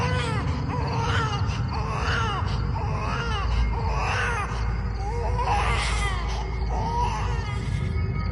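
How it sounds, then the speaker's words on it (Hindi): A child's slow, painful crying rendered as a horror story sound effect, with drawn-out wailing sobs rising and falling in repeated phrases over a constant low rumbling background. "एक बच्ची जैसी रोने की आवाज,"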